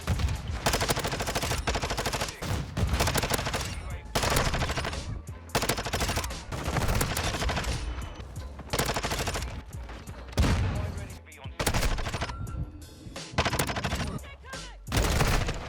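Sustained gunfire in Modern Warfare 2, loud dense bursts of automatic fire repeating for the whole stretch with only short gaps between volleys.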